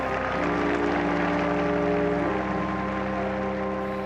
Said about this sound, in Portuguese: Quando o caixão de cipreste com o corpo de Bento XVI entra no sagrado da Basílica, é muito aplaudido